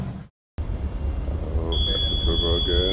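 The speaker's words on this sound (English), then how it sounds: "Plenty alarms." A high, steady electronic alarm tone sounds with layered beeping over low machinery rumble and some talking, at a ship's controllable pitch propeller system.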